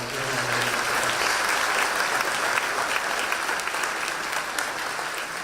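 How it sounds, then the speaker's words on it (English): A room of attendees at a Washington, DC tourism strategy announcement breaks into sustained applause, a dense even patter of many hands that holds steady at close range before easing slightly toward the end. "round of applause for all of you all"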